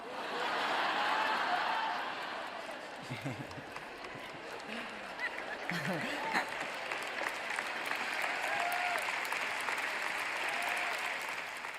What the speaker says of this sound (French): Ça ne mérite pas des applaudissements, n'est-ce pas?